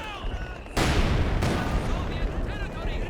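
A heavy artillery blast in a World War II real-time strategy battle: a sudden loud boom with a long rumbling tail, followed by a second impact, over faint background battle noise and a commentator's voice.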